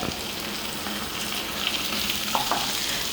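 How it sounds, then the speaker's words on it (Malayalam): Sliced onion and a large chopped tomato fry together in a pan for prawn masala, producing a steady close sizzle with faint stirring scrapes throughout. "സവാളയും കൂടെ ഒന്നുകൂടി നന്നായി ഒന്ന് വഴണ്ട് വരട്ടെ"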